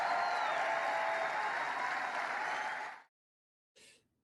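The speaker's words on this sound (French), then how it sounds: "J'ai laissé cet extrait durer un peu plus longtemps à cause de tous les applaudissements." Sustained crowd applause from a large audience during a speech by Donald Trump, loud and dense for about three seconds, then cutting off abruptly to silence before a brief faint burst.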